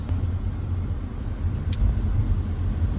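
A car carrying a family on a weekend trip to Lonavla drives on the road, heard from inside as a steady low rumble of engine and tyres with no talk.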